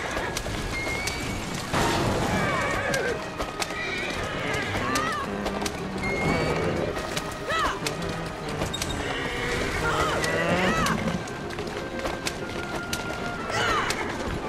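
A horse in the video game Assassin's Creed Syndicate neighs and its hooves clip-clop amid busy, layered game noise and effects.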